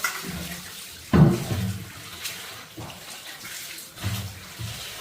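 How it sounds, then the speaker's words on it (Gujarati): Tap water runs as something is rinsed beneath it, close and moderately loud, with a sharp splash and a few shorter gushes of flowing water. "થોડુંક નળ નીચે વિચરી નાખ."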